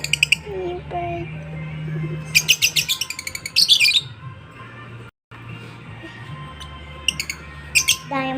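African birds chirp in bursts of high, rapid tweets and squawks, some close and loud, with short gaps between calls over a low steady hum, and brief voices.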